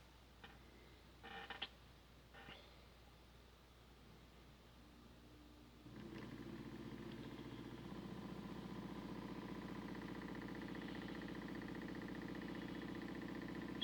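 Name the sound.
small electric motor running on homemade decoder tester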